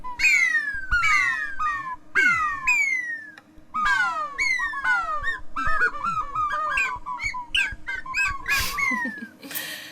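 A synthesizer patch imitating birdsong produces a rapid series of bright, downward-sweeping chirps and trills, close and loud, repeating in quick irregular bursts that grow busier and more tangled toward the end.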